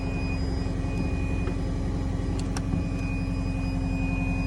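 A 2019 Cat skid steer loader idles steadily with its blower running on high, giving a continuous, even mechanical drone with a low engine hum and a faint whine, with no voices and no changes in level.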